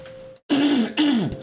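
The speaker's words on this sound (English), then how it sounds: "Clear my throat there" Someone clears their throat twice in quick succession, close and loud, after a brief moment of quiet.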